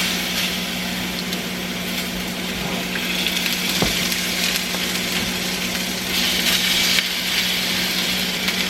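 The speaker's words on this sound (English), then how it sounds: "we're just going to sear these on both sides" Boneless pork chops sear in a hot pan with a steady broadband hiss and low hum. The sound runs close and even throughout, with a brief knock near the middle.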